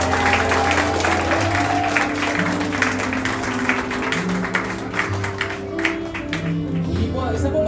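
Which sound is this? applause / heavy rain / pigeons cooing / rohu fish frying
applause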